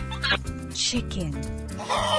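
A chicken clucks in short bursts over a bright backing of children's nursery music, fairly close and loud.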